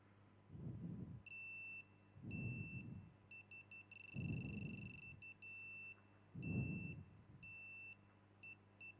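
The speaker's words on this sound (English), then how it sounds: "a buzzer to alert him about the distances" An obstacle-sensing smart walking stick with a buzzer beeps in clipped electronic tones, pairs and a fast rapid burst repeating in patterns over a low rumbling hum and dull thumps.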